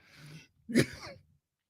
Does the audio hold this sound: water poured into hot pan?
no